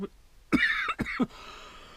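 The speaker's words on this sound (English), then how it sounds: "I always cough at the beginning of I'm sick." Two or three harsh, close coughs in quick succession, with a brief throat-clearing quality, then quiet.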